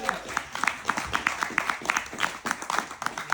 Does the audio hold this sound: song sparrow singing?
no